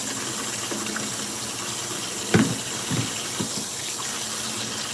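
Tap water runs steadily into a sink while raw chicken is rinsed in salted water for a stir-fry, a continuous close rushing hiss broken by a few soft splashes and knocks as the meat is handled.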